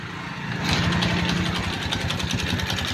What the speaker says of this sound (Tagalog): Yan, pakinggan nyo po yung tunog ng makina.